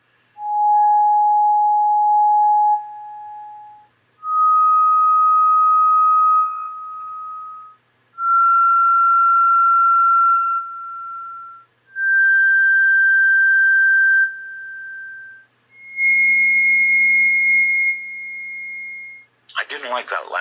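Five separate electronic sine tones play one after another, each held about two seconds with short gaps and stepping higher in pitch, followed by a brief burst of noise at the end.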